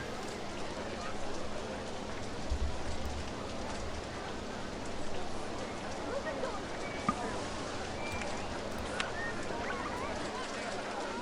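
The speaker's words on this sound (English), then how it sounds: "Not the rain!" Steady rain falling in the theme park game OpenRCT2, a dense, even hiss of drops spread across the whole stretch at a constant level, with no voices over it.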